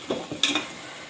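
A spoon scrapes and stirs rice through leftover curry in a hot pan, giving three short, close scraping strokes in quick succession with no voices.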